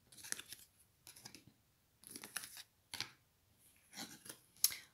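Tarot cards drawn and handled, giving soft papery swishes and snaps in several short bursts, close and fairly quiet, with gaps of near silence between them.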